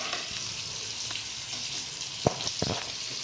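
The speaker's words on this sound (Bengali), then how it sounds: "ভালো করে ভেজে নিই" Marinated chicken pakora frying in oil, a steady close sizzle with a couple of sharp stirring scrapes near the end, no voices.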